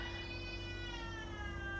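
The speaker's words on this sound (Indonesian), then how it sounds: "Tuh kucing gue aja sampai komen tuh" A house cat meows once in a long, drawn-out wavering call, close and clear over a quiet room hum, with no one talking.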